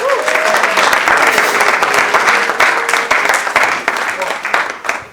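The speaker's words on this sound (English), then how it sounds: "Please, a wonderful round of applause for Mary Akins" A wonderful round of applause rises from the audience at a Rev. Martin Luther King tribute, loud dense clapping sustained throughout with crowd noise and faint voices mixed in.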